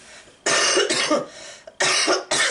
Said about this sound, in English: I'm still dealing with this annoying ass cough